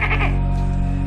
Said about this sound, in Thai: เมื่อได้ยินเสียงตุ๊กแกร้องระงมอยู่ด้านนอก